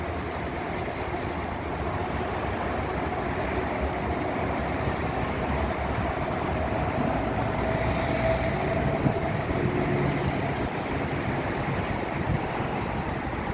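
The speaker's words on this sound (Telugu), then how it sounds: "Dubai metro" A steady, continuous rumble of a Dubai Metro train running along rails, even and unbroken throughout, with no voices.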